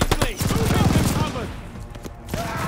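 Machine gun fire in the Call of Duty Vanguard campaign on PS5, a rapid close burst of rattling shots followed by scattered single gunshots and game ambience.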